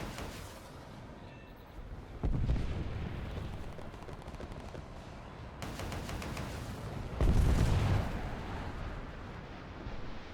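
Jaguar GR.1 jet in a combat video game firing ground attack weapons, with heavy booming blasts around two and seven seconds over a steady roar of gunfire and rumbling explosions.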